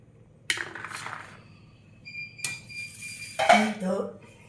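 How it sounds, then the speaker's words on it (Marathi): Metal utensils scrape and clink against pots as cooked mixed vegetables are scooped and moved into a pot, several distinct clatters with quiet gaps between. "आपण ह्या सगळ्या शिजलेल्या भाज्या एका भांड्यामध्ये काढून घेणार आहोत"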